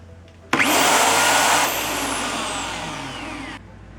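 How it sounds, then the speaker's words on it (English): A power drill clamped as a lathe headstock whirs up abruptly and runs at a steady high-pitched whine for a few seconds, then cuts off, leaving a low background hum. "Now with the drill clamped in the headstock, I can turn it on"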